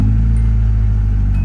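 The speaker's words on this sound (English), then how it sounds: "I want you to hear this new starter" A Nissan 240SX with a newly fitted starter motor cranks, giving a loud, steady low-pitched mechanical drone with an even pulsing rhythm, heard up close with no talking.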